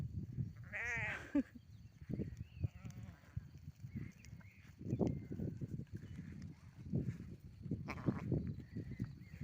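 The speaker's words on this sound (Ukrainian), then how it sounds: "Наші вівці." Sheep bleat several times on a village farm, wavering cries rising over low, steady farmyard rumble and shuffling, with a few more distant bleats later.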